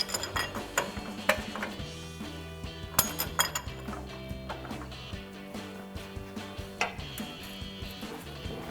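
Metallic clinking and ratchet clicks from a 24mm ratcheting wrench tightening the CV axle nut on a Chevrolet Silverado 1500 front axle, close and busy, with irregular sharp taps over a low background hum.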